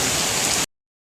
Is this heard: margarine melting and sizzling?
no